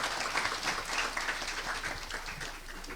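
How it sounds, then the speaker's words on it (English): Audience at a trade roadshow speech in the Gambia clapping for themselves, a steady faint patter of many hands continuing throughout without letting up. "we deserve to clap for ourselves for that"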